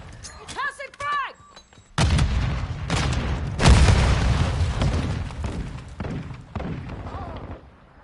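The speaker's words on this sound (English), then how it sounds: "Tossing frag!" Frag grenade blast in Modern Warfare 2, a loud booming explosion with a long rumbling tail, preceded by game effects and followed by gunfire-like thuds and a voice speaking.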